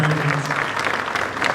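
Brief burst of audience applause at a school spring concert for the stage crew, steady clapping close and full with a faint voice underneath.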